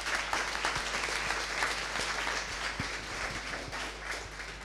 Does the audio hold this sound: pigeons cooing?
no